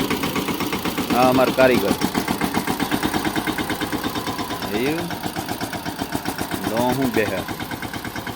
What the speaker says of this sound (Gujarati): આ ચોખ્ખું કરીને આમાં ટ્રેક્ટર હાકીએ છીએ.